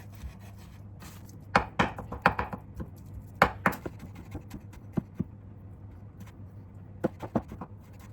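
A knife cuts fat off raw meat on a board, making scattered sharp taps and scraping strokes, some in quick clusters, close up with no talking.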